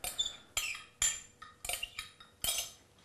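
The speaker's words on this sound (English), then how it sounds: "And you just stir it around." A spoon stirs a thick soda bread mixture with buttermilk-like milk in a bowl, making a series of close clinks and scrapes in an uneven rhythm, about six strokes in three seconds.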